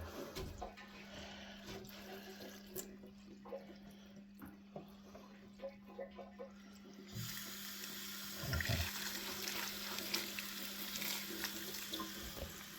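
Water running and splashing while an indoor winter aquarium tank is rinsed, a soft trickle at first that turns into a louder, fuller gush partway through, with no voices.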